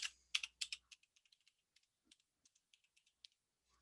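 Typing on a computer keyboard during a PowerPoint demonstration: a quick flurry of crisp, close key clicks, then sparser single taps, soft and quiet, with no talking.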